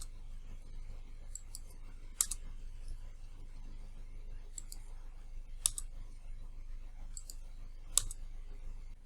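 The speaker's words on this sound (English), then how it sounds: "you simply click and hit enter on your keyboard" Computer keyboard keys click sparsely and faintly, with a few sharper, louder taps spaced a couple of seconds apart against a quiet room hum and no voices.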